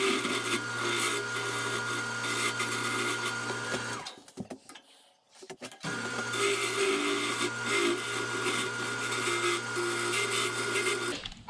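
A wood lathe turns a cane sword shaft, giving a steady, loud whirring hum with a low drone. It stops briefly in the middle, then starts up again, and no one talks over it.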